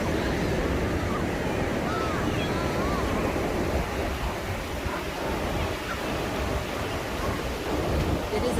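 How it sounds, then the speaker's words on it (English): Surf waves rolling in at a beach on the Central Coast on a Sunday morning, a loud continuous roar of breaking water mixed with wind buffeting the microphone, with a voice faintly underneath. "Hopefully you can hear me over the surf, over the waves."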